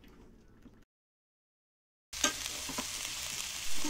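Cabbage and sprouts being stirred in a frying pan for a sprout sabzi, with a loud, steady sizzle and scraping that starts abruptly after a quiet gap and runs to the end.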